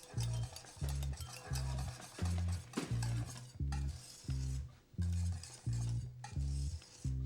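A spoon stirs thick choux pastry cream in a pot, a rhythmic series of soft scraping strokes at a steady pace, close and clear with no speech.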